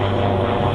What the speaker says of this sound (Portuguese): um helicóptero